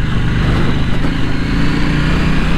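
KTM Duke 790 naked motorcycle on the road, its engine droning loud and close in a steady throaty hum, with continuous wind rush and no speech.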